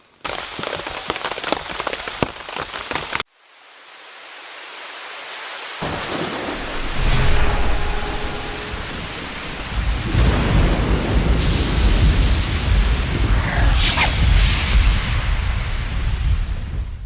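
Rain pours down steadily in the woods while thunder rolls and cracks overhead, loud and close, after a brief stretch of other sound and a moment of silence.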